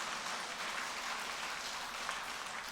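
A church congregation applauds to welcome newcomers to a Sunday service, a soft, distant and even patter of many hands that holds steady throughout.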